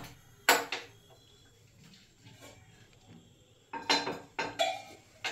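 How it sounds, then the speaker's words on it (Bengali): Clanking metal rings out as a frying pan is set on a kitchen stove while making chicken soup, with a sharp knock, a quiet gap, then several quick rattling clatters close to the microphone. "এখন এই ফ্রাই প্যানটা বসাচ্ছি।"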